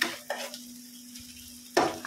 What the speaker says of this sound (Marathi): आणि आता आपण हे छानपैकी असं मिक्स करून घेऊया।